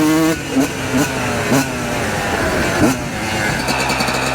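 A Yamaha YZ125 two-stroke dirt bike revving in third gear: a loud, close engine note rising and falling in several quick throttle blips over a steady running drone.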